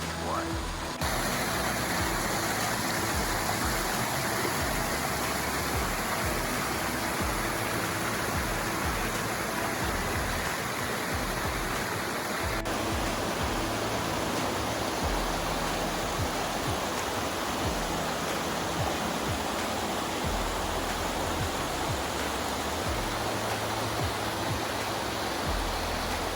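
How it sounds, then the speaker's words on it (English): A small mountain stream running off Canonteign Falls among granite rocks gives a continuous broadband rush of flowing water, steady and close, with no talk over it. "So there's this little mountain stream at the bottom, which is runoff from the big falls that we are walking toward."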